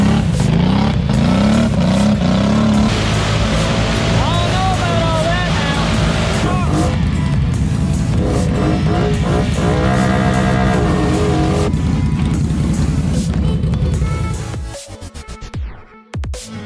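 A lifted off-road rig with 8-inch portals, 6-inch wheels and 44-inch BKT tires revs hard and drives at a farm, loud engine roar with rising and falling pitch that is continuous and near, dropping off sharply near the end.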